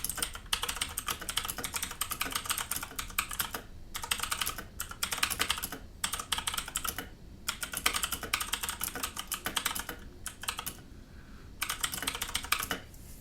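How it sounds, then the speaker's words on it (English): Rapid, continuous typing on a Mechanical Eagle Z-77 budget RGB gaming keyboard with green mechanical switches, crisp clicky keystrokes in dense bursts with a few short pauses, close and alone without talk. "first things first, a little typing test."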